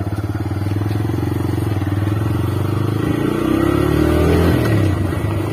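A TVS Raider motorcycle under way, its engine droning loud and close, then rising in pitch as it revs and accelerates before easing off near the end.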